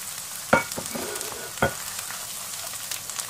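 Whole cloves and cinnamon sticks drop into hot oil for chicken malai boti, with two sharp clinks and a low, steady sizzle underneath.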